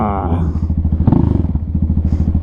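A Venom Ghost chopper motorcycle engine idles close by, its exhaust thumping in a fast, even rhythm, with a brief rev in the middle.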